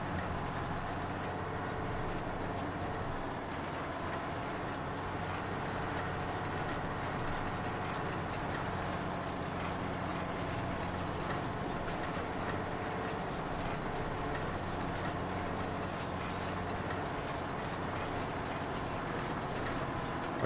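A tractor with rear-wheel steering and a seed drill in Farming Simulator 25 drones steadily and loudly for the whole stretch, a constant low engine hum with no breaks and no talking.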